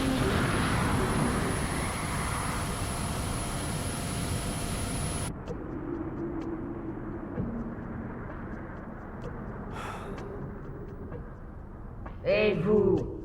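Fighter spacecraft launching in an animated space-opera series, a loud sustained jet-like roar that cuts off abruptly, giving way to quieter engine hum and brief whooshes, with a voice speaking near the end.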